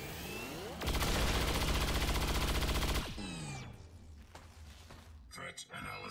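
Sustained automatic gunfire in the video game Singularity rakes a turret in one loud, rapid burst lasting about two seconds, then cuts off into quieter game ambience with scattered clicks.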